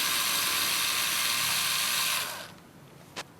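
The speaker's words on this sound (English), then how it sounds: "Just remove this screw for the fulcrum arm." A screwdriver backs out the fulcrum arm screw on a Tryton Comer Cadet kart carburetor, a steady close ratcheting rasp that runs for about two seconds, then stops, followed by a single faint tick.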